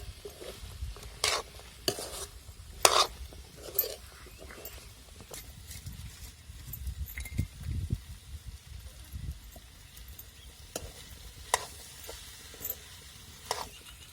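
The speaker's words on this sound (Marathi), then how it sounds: "चांगला परतून द्यायचा एक दोन मिनिट" Mixed vegetables and chickpeas stir-fried with masala in a pan: a soft, low sizzle under repeated scraping and clinks of a spoon against the pan, close but fairly quiet.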